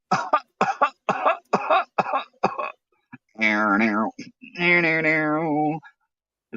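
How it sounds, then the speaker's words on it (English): Several quick, harsh coughs come in a rapid series close to the mic, followed by longer voiced, tonal sounds from the same person. "No. It was a cough."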